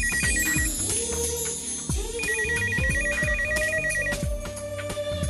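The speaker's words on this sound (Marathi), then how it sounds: "फोनची रिंग वाजते." A phone ringtone chimes in a repeating electronic melody, loud and close, playing over a musical backing in a comedy scene.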